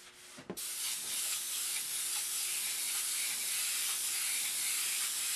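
Steady hissing spray runs continuously after a brief click, close and fairly faint, as paint is sprayed onto wood before being wiped off.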